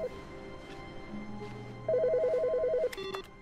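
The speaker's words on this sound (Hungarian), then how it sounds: "Van itt egy telefoncsörgés." A telephone rings in The Stanley Parable with a rapid electronic trilling ringtone that runs for about a second over quiet ambient game music, then stops.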